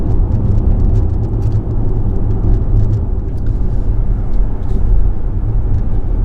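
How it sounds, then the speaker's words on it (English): An Audi E-Tron electric car driving on the road, a steady low rumble of road and tyre noise with a faint motor whine, continuous and fairly loud throughout. "You can hear obviously a little bit of motor whine from the car"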